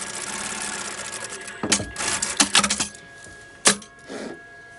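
A sewing machine hems the sleeve of a rag doll's garment, with a steady low whir interrupted by sharper clacks and a few loud knocks as the fabric is handled, all close by.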